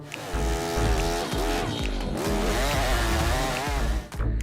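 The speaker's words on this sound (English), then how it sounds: "We will explore the most powerful chainsaw in the world, the Stihl MS" Stihl MS 881 Magnum, a large professional chainsaw, running loud and close with a steady, harmonically rich engine drone that rises and falls as it revs, with no voices over it.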